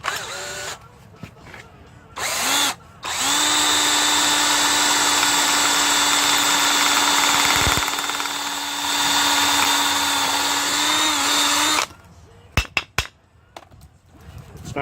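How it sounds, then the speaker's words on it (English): A power drill with a 9/32 bit bores a hole for a mason jar mug handle: a brief start, then a long steady high whine for about nine seconds, close and loud, ending with a few clicks and knocks. "drill a hole"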